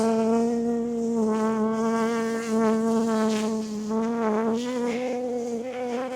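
Honey bees hum in a steady, close, continuous drone around an opened hive, the tone wavering slightly in pitch with no voices over it.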